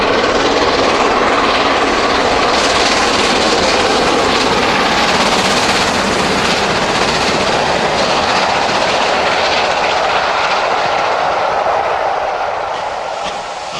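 Castle and King class British steam locomotives The Royal Duchy, Earl Bathurst and King Edward I climb Whiteball bank in March 2007, a loud, continuous roar of hard-working exhaust and rolling stock that eases slightly at the end.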